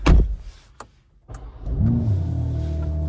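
A BMW M3 G80 car's engine starts after a few clicks and knocks, then settles into a steady, close, rising rumble as it begins to rev and accelerate.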